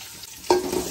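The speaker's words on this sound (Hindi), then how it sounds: "प्याज को सुनहरा होने तक भून लेंगे" Chopped onions drop into hot cooking oil for a boneless chicken karahi. After a quiet moment a sudden close sizzle bursts up and keeps crackling to the end of the short clip, with no talk.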